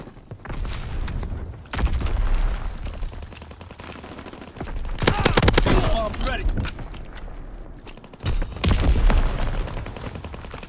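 Bursts of machine-gun fire and booming explosions, including a grenade blast, in the World War II shooter Call of Duty WWII, arriving in loud clusters separated by quieter gaps, with voices shouting over the action.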